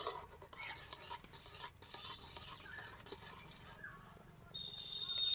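A spoon scrapes and stirs milk and rice in a pot for kheer, soft irregular swishes and taps close by, faint, with a voice speaking quietly in the background.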